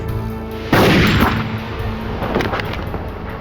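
A 9mm handgun shootout breaks out in a sudden loud burst at close range, followed by a second crack-like impact a moment later, set against a continuous noisy background with no speech.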